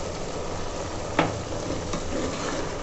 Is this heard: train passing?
no